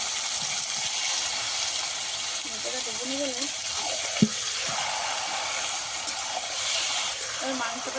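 Chicken meat frying in a pan with onion, garlic and tomato gives a steady broadband sizzle and hiss, with occasional stirring clinks, while a voice talks over it.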